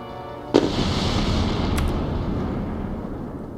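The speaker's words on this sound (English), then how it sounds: "I'm gonna drink as I look at the explosion that is about to happen." A spaceship explodes in the space strategy game Endless Space 2 with a sharp, loud blast followed by a long rumbling, crackling roar that slowly fades, alone with no talk.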